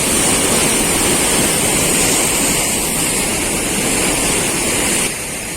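Loud, continuous rush of water churning through the Wadaj dam canal, a dense steady roar that eases slightly near the end.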